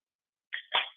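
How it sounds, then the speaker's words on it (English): An aluminum beer can cracked open at a desk, a sharp tab snap followed by a brief fizzing hiss, close and fairly loud, alone after a short silence. "Did you just crack a beer?"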